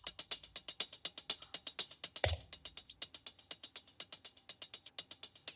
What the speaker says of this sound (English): Immediately here you can see I've added a hat loop